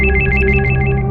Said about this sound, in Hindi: कुछ देर बाद विनय का मोबाइल बजा।